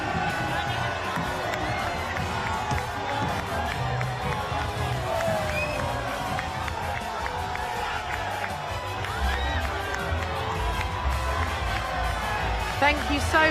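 A large crowd lines the streets at an Arsenal champions parade, a dense continuous roar of cheering and shouting that stays loud and steady throughout, with voices mixed into the din.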